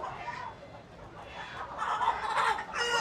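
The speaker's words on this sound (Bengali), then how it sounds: "এ হচ্ছে খাসি মুরগি।" Capon chickens clucking at a night-time wholesale poultry market, close, busy clucks and squawks rising toward the end over market noise.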